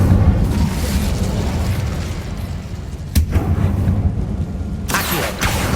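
Incendio fire spell blast in the Hogwarts Legacy video game: a loud booming burst over a rumbling background, with a sharp crack midway and another burst near the end.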